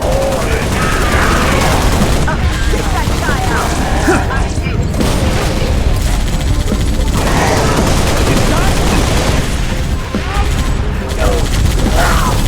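A mounted gun in the video game Halo Reach fires continuously, with dense, loud, rapid gunfire and booms forming a constant wall of combat noise, with voices talking over it.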